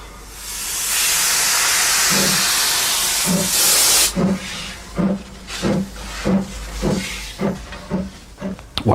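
A steam train on the Isle of Wight lets out a loud, broad hiss of steam for about four seconds, then settles into a rhythmic run of chuffs and puffs repeating roughly every half second.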